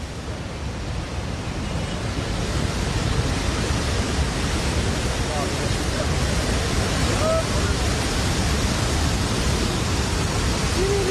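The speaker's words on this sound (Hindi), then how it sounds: "नालों में दहाड़ मारता पानी" Flood water roars down mountain streams after a cloudburst in Lahaul, Himachal Pradesh, a dense, constant rushing wash that stays loud and unbroken throughout.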